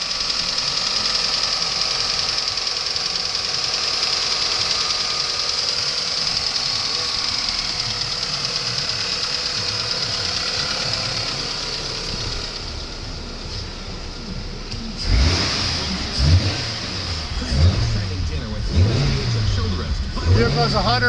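A 2002 Dodge Stratus two-door coupe with the 2.4 engine and about 170,000 miles runs at a steady idle for some 15 seconds, then revs up in several quick bursts, all close and loud.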